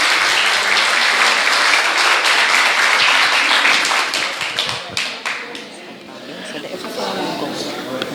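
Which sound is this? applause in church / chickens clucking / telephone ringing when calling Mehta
applause in church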